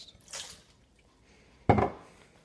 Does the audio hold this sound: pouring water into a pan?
yes